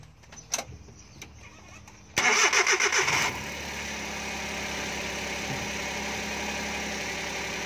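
A car engine with a replaced ignition coil cranks in a quick stuttering burst after a few clicks, then settles into a steady mechanical hum without catching cleanly.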